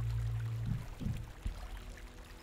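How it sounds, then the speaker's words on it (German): Orange juice poured into a small glass, a low gurgling pour with two or three short glugs and splashes, close and fairly quiet, no talk over it. "ich gieße mir mal etwas Orangensaft"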